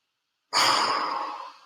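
A single deep, drawn-out exhalation during a breathwork exercise, starting abruptly and fading slowly over more than a second, airy and close with no talking.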